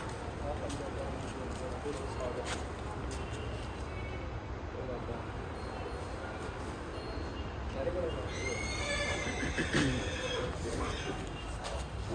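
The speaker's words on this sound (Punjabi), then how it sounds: "ਇਹ ਤਾਂ ਤੁਸੀਂ ਦੇਖ ਸਕਦੇ ਹੋ ਬਹੁਤ ਸਾਰੇ ਘੋੜੇ ਆ ਜੀ ਇਸ ਤਬੇਲੇ ਤਬੇਲੇ ਦੇ ਵਿੱਚ" Horses in a stable at Sri Hazur Sahib, with a faint neigh rising late out of steady, noisy background hum. Voices and crowd sounds sit close by throughout.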